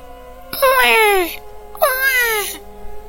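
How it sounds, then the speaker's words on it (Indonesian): An infant cries in a horror tale at night in a tree-lined passage, two clear wailing bursts with falling pitch, loud and close, separated by a brief pause. "Tangisan bayi, jelas, pelan, tapi seperti dekat."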